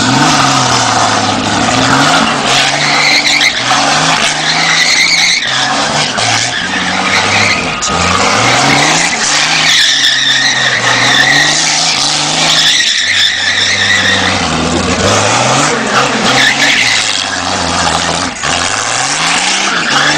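A kart fitted with a Chevrolet Opala six-cylinder engine, at an Opala owners' gathering in Volta Redonda, revs hard and skids with continuous tire squeal. The sound is loud, close and sustained throughout, with no talking.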